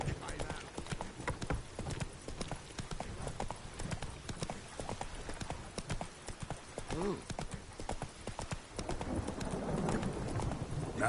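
Rapid clip-clop of Roach the horse galloping in The Witcher 3, steady and close, with a voice and game sounds briefly over the hoofbeats.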